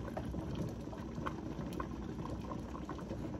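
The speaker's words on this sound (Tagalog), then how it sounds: "Ayan, kumukulo na." A pot of sinigang broth bubbles at a steady rolling boil, close and continuous with small popping bursts.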